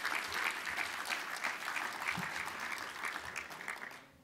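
Audience applause fills a conference hall, steady dense clapping from many hands that holds level and then fades out toward the end, with no talk over it.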